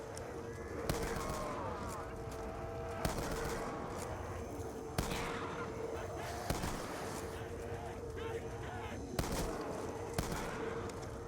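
In Call of Duty Zombies, a standard machine gun fires in repeated bursts amid busy game noise, with a voice faintly present underneath.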